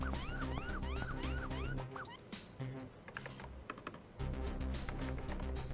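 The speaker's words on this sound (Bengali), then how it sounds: "আচ্ছা বাইরে পুলিশের সাইরেন বাজছে।" Police siren wailing outside an office, a loud rising-and-falling electronic whoop that repeats, drops away briefly amid clattering noise, then returns strongly.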